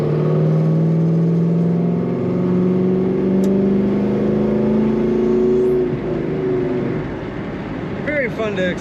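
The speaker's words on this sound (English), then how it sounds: "Very fun to accelerate in this Chevelle. Nice throttle response." A 1972 Chevrolet Chevelle convertible accelerates on a highway, its engine note climbing steadily in pitch over several seconds as a loud, continuous drone with road and wind noise beneath; a voice speaks briefly near the end.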